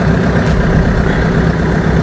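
A car engine idles steadily at close range, a constant low rumble with a broad hum that holds unchanged throughout, with no voices over it.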